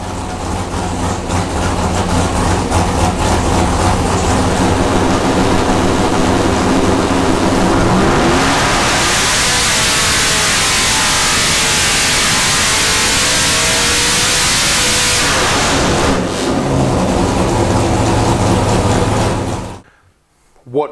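A 582ci Head Hunter racing engine of over 1000 horsepower runs loud and close, rumbling with a roughly steady note, then surging in a strong rev in the middle before dropping back and cutting off abruptly.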